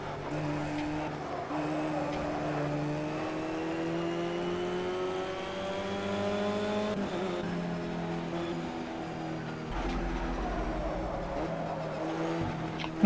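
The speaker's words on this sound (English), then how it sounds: "I guess usually you're not trying to talk over an engine sound" A race car engine in the video game Project Cars revs through the gears, its pitch climbing and then dropping with each shift. The drone stays steady and continuous, with a low thump near the end and little talk.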